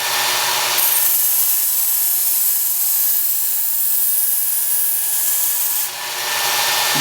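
A knife blade held freehand against the running belt of a Work Sharp Ken Onion sharpener, a loud steady abrasive hiss with a thin whine, cutting in after a moment and briefly dipping near the end.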